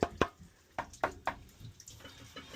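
Water moving inside a boiler heating system after a new pump install, faint scattered gurgles, drips and knocks in sparse irregular bursts.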